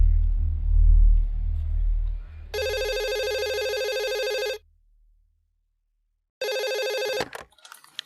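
An indoor telephone rings loud and close in two electronic bursts, the first about two seconds long and the second shorter after a silent gap, with low rumbling at the start.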